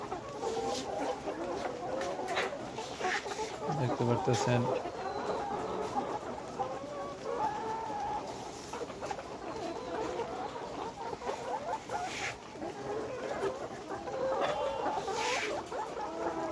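Nourish Sebaster cross layer hens, about 142 days old and in egg production, cluck and murmur steadily in a crowded poultry shed, many birds at once under a constant hum, with brief speech partway through.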